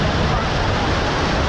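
Ocean surf at Thanthadi beach in Vizag makes a steady, dense roar with no gaps, close and fairly loud, like wind-blown waves washing in.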